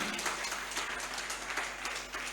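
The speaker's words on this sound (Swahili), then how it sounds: "Watu pigeni makofi." Church congregation applauding together, a steady wash of many hands clapping at moderate distance with no speech over it.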